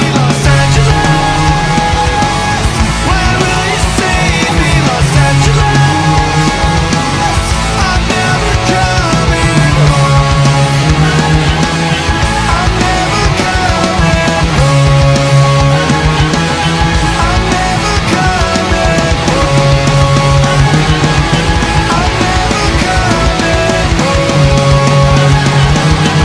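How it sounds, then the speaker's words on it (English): Electric guitar playing a song's final chorus and outro, a dense, steady, loud full-band rock mix that runs continuously throughout with no talking. "So the final chorus together, along with the outro, is going to sound like"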